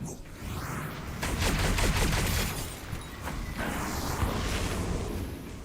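Repeated charged weapon shots from a pistol-like class in the game Zenith: The Last City, a dense run of sharp bursts over a steady booming game background, loud and close throughout.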